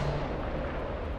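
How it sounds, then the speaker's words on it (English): Gunfire in Apex Legends Mobile, a dense, loud, booming roar of shots with no break, heard only briefly and filling the whole moment. "Listen up, I'm getting shot at."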